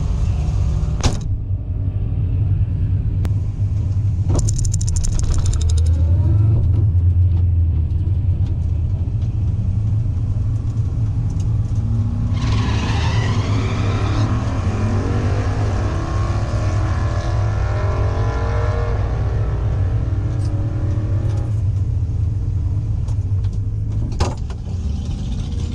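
A car rolls through water at a motorsport event, with a steady engine rumble throughout and a rushing, splashing wash swelling in the middle as the vehicle ploughs through, the engine surging at times.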